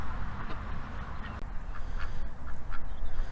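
Free-range farm ducks quack in a run of short, fairly close calls over a steady low outdoor rumble, with no talking.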